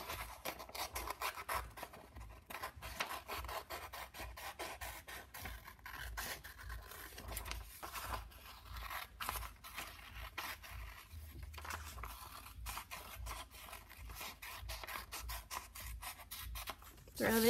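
Scissors cut out a paper turkey in quiet, close, irregular snips and paper rustles that run the whole time, with one louder handling noise at the end.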